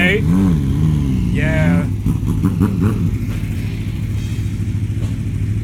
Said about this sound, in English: And the bikes are damn loud, brother.